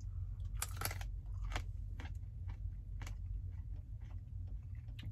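Someone crunches hard chunks of coconut from a Canadian MRE trail mix, a series of sharp, close bites and grinding chews spaced irregularly over a low background hum.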